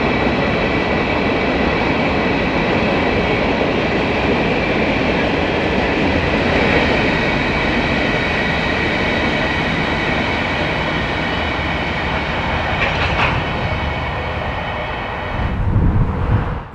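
A Union Pacific freight train carrying long blocks of National Steel Corporation hoppers rolls by on the Portland Subdivision, a loud, steady roar of wagons and wheels lasting throughout, with a brief clattering flurry near the end.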